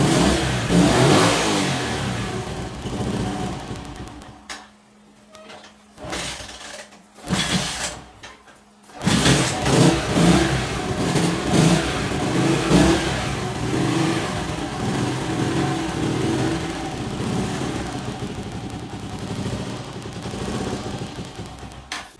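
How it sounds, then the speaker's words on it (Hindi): A kick-started motorcycle engine running on half choke: it sputters and revs loudly, cuts out briefly in a couple of gaps, then catches and runs steadily with uneven throttle surges, close up. "हाफ चौक पे ये इस तरह स्टार्ट होगा।"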